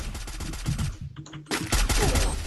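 Rapid bursts of gunfire in the video game Free Fire, dense automatic shots with a brief lull in the middle, then loud renewed firing with a faint voice underneath.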